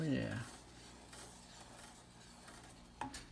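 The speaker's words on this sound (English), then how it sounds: "Now let's stir that up." Concord grape jam being stirred in a pot, a soft scraping swirl that is loudest at the start, then fades to a quiet steady texture with a brief clink near the end.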